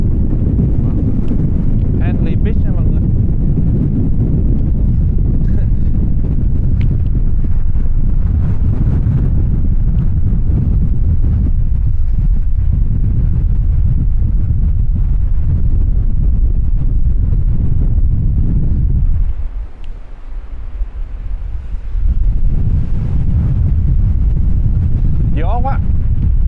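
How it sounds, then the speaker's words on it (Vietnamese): Strong wind buffeting the microphone at Henley Beach in Adelaide, a loud continuous low roar that eases briefly before gusting back, with faint surf underneath. "Ừ, bữa nay gió quá."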